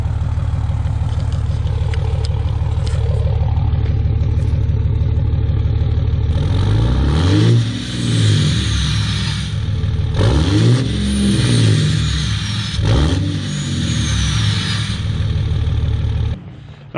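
Diesel pickup truck fitted with a BD Diesel Howler turbo, idling with a steady clatter, then revved several times in strong surges that bring a rising turbo whistle and loud roar, close up.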